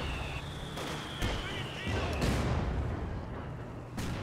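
A long-range rifle grenade bursts on a US mortar position in a World War II strategy game, a muffled boom rising over a dense wash of distant battlefield gunfire and rumble.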